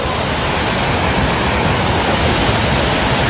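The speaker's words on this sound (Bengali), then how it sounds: "ওয়াটারফলটা দেখো ছোট্ট ওয়াটারফল বেশি বড় না" A small waterfall at Netarhat, Jharkhand, where bathing is possible, roars as a steady, dense, close rush of falling water that fills the whole clip without pause or voices.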